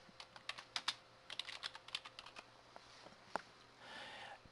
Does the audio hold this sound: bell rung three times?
no